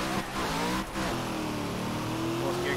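An LSX-engined S13 drift car in a racing video game revs hard, and the engine note climbs in pitch and then dips at a gear change. Another car's engine is audible nearby, and a voice talks over it.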